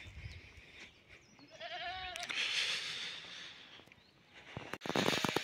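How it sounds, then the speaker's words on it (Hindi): Sheep and goats bleat in the morning as a herd heads toward the forest from a rural encampment, with several wavering calls rising over a constant outdoor hiss, some near and some farther off. "जंगल चले जा रही है हमारी भेड़ बकरियां जो कि आ चुकी हैं यहाँ पे"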